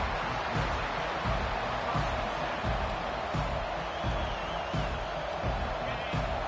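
Football stadium crowd roaring during a game, a broad sustained wash of crowd noise with scattered cheers and whoops, moderately loud, under faint commentary-like voices.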